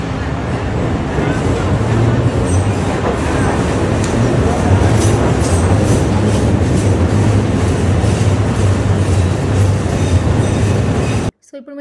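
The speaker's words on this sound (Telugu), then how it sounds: "అలా బిల్డింగ్స్ మధ్య నుంచి ట్రైన్ వెళ్తూ ఉంటాయి" Elevated subway train rumbling past between buildings in downtown Chicago, a steady loud roar with faint clatter and a low hum lasting throughout, with voices murmuring beneath it.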